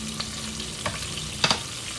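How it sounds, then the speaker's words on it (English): Sofrito and spices hit a hot pan for Dominican stewed eggplant, giving a low steady sizzle with a few brief stirring scrapes. "We're gonna add our sofrito. We're gonna add all of our spices that I told you."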